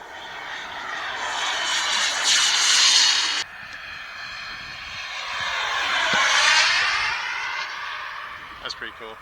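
A Boogieman 60 RC jet howls as it takes off, its turbine whine rising and sweeping past in two loud passes over open ground.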